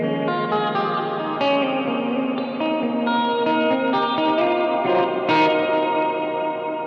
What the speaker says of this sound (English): the Immerse from New Neighbor Audio from Quilter Labs is a simple yet perfect reverb for any reverb lover